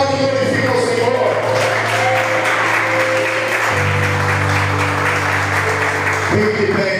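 A church congregation at a Sunday service applauds continuously, with dense sustained clapping under a loud sustained tone from music or sound amplification.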